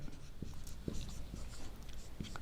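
Pen writing on paper during an income tax lesson: faint, soft scratching strokes in a loose rhythm, quiet and close, over a low room hiss.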